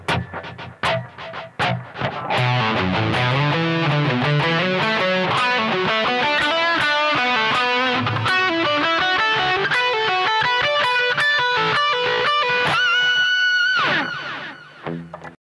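Distorted electric guitar running a fast minor pentatonic lick over a backing jam track, dense, continuous note runs ending in a sustained bend, loud and close, with no speech.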